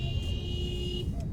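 Steady low engine rumble of cars crawling along a congested Coimbatore city road, a continuous close traffic drone with a faint steady tone above it and no voices.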